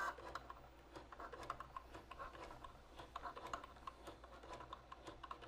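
A Cricut Joy cutting machine drawing and filling in simple shapes produces rapid, fine ticking and clicking like light typing, steady and continuous at close range, quiet with a faint hum underneath and no voices.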